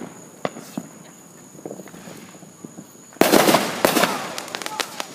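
Fireworks go off on the Fourth of July. A few light pops and footstep-like taps lead into a sudden burst of loud, dense crackling and bangs at close range, with crickets chirping in the background.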